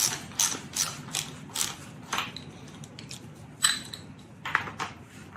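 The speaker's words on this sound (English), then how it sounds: "Use your 3/8 inch ratchet." A 3/8 inch ratchet tightens a bolt on a velomobile with a run of quick, close clicking pawl ratchets in short bursts, followed by a few isolated clicks against a faint room background, with no one speaking.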